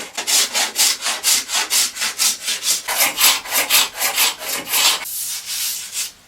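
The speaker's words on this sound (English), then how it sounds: "I'm going to see how easy the finish is to scrape off rather than using a stripper." A scraper rasps over the old finish on a wooden 1920s hallstand in quick, regular strokes, about three per second, loud and close, before the scraping stops and only a faint room hiss remains.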